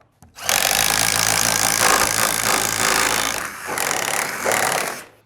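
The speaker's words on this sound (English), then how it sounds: "drill you a hole about halfway in that top plate" Electric drill boring a hole halfway into a wooden top plate above a stud, a loud continuous whirring bite lasting about five seconds with a brief dip near the end, no talk.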